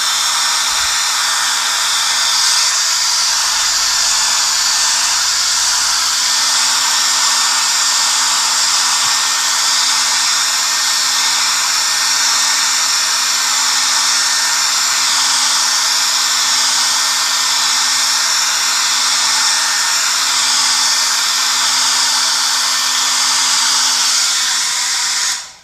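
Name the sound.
hair dryer blow drying acrylic paint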